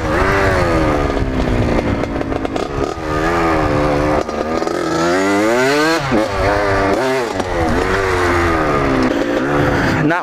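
Small motorcycle revved hard through its power band in a yard, loud and close, with rising and falling engine pitch sweeping up and down repeatedly across the whole stretch.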